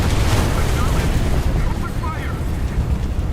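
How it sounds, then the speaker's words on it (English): Artillery strikes pound the ground in War Thunder, a dense, continuous rumble of overlapping booms and blasts with no clear gaps, loud and sustained throughout. "also just drop artillery there"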